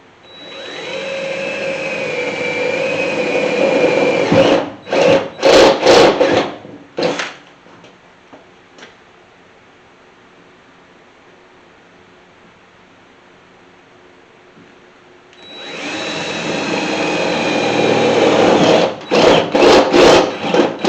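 A power drill whirs steadily for several seconds while drilling holes on a 1981 Chevy C30 dually truck, stops in a few short bursts, then runs again after a quiet pause, close and loud.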